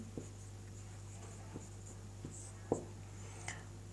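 A Sanskrit translation lesson is written on a board with sparse, distinct taps and short scratches spaced about a second apart over a steady low room hum, with no one speaking.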